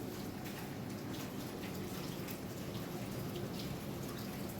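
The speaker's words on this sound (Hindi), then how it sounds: "तो अब बारिश बंद हो गई है, बंद नहीं हुई है, ये देखो हल्की हल्की हो रही है" Light rain falling outside onto a wet balcony, a steady soft broadband hiss of drops with no pauses, moderately close and fairly quiet.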